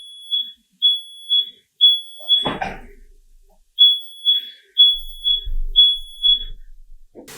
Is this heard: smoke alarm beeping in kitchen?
yes